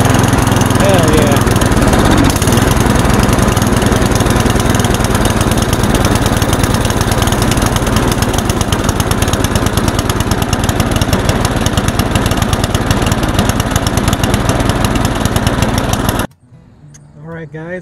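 A free snowblower's small engine starts and runs loud and close with a steady chugging drone for about sixteen seconds, then cuts off abruptly.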